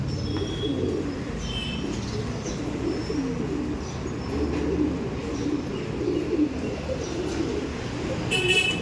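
Pigeons in a loft coo in a continuous low, burbling chorus, with faint chirps and soft rustling mixed in throughout at a steady moderate level.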